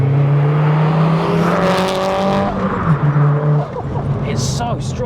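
A big-turbo MK1 Audi TT engine accelerates hard with a loud, rising tone that drops between gear changes. It is heard from nearby, with turbo whoosh and people talking over it.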